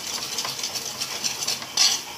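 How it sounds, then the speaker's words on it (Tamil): A spoon stirs a cornflour mixture into tomato soup in a pan over a low flame, giving soft, steady scraping and swishing strokes with a couple of sharper clinks near the end, close by and with no talk. "சேர்த்து நல்லா மிக்ஸ் பண்ணணும்."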